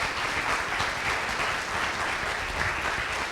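Dense, steady applause from a crowd welcoming experts as they walk in at a community event, a continuous loud wash of many hands clapping with no break.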